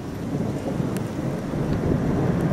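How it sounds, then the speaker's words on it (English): Low, continuous rumbling fills the sky over Phoenix, a steady distant thunder-like roll with faint crackles and a slight swell in loudness toward the end, no voices. "Constant rumble."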